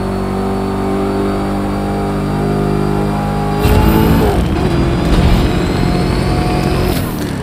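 A Noble M600 engine revs in the racing game The Crew 2, first a steady layered drone, then a sudden harsh surge into loud aggressive revving that stays close and continuous.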